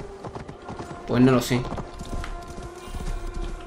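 A horse's hooves clip-clop in Assassin's Creed Valhalla, a steady, moderately close trot heard under someone talking, with one louder harmonic sound briefly rising over the hoofbeats.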